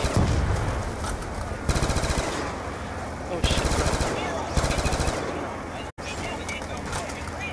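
Rapid automatic bursts from a Galil rifle in a zombie-mode shooter video game, loud and close, several strings of fire separated by short pauses over constant background noise.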